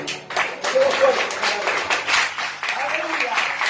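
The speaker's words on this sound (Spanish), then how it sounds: "aplauso al Señor" A church congregation applauds for the Lord, scattered clapping running steadily under a loud voice talking over it.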